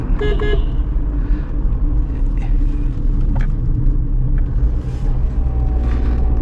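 A Tata Punch automatic in eco mode climbs a hill road toward Kodaikanal, with a steady low engine and road rumble heard from inside the cabin and a short horn toot near the start.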